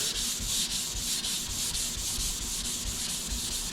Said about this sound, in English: So our final step on this is just to hand sand it with 400.